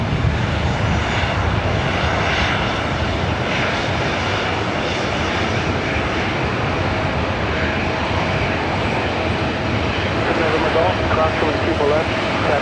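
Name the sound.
Boeing 737-900ER jet departing LAX for Detroit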